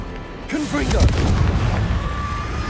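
A Confringo spell blast from Hogwarts Legacy, a deep booming burst that swells after a quiet start and rumbles on, with a player's voice in the background.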